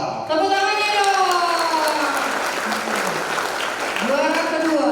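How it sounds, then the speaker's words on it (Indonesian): An audience at a campus student orientation event applauds a third-place winner, steady dense clapping throughout with a voice speaking over it. "Tepuk tangannya dong."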